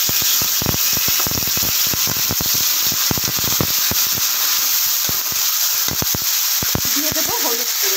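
A ginger, chilli and cumin paste sizzles loudly in a pan of fried potatoes. A steady, hissing frying sound runs throughout with crackling pops, and a voice briefly joins near the end.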